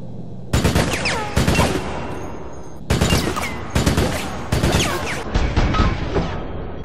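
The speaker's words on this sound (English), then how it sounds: "Alright, let's test the burst rifle out." A burst rifle firing in the video game Resident Evil: Operation Raccoon City, heard as five or six loud separate bursts of rapid shots, each one ringing out briefly before the next.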